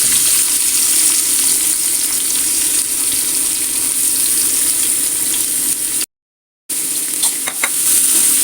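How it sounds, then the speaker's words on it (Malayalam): Three sliced onions fry in oil left over from roasting for prawn biryani, producing a loud, continuous sizzle that drops out briefly near the end before resuming with a few stirring clicks. "നമ്മൾ അതേ എണ്ണയിലേക്ക് തന്നെ നമ്മൾ ഒരു 3 സവാള അരിഞ്ഞെടുത്ത് കൊടുക്കും."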